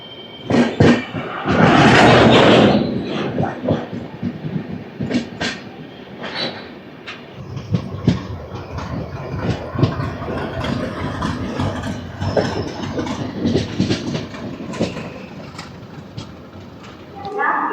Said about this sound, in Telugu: డీజిల్ లోకోమోటివ్ చూసారా